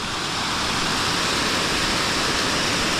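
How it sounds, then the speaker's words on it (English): Steady rush of a river flowing close by, a dense continuous wash of water noise with no breaks and no voices. "You're going to be very disturbed with the noise of the river in this vlog"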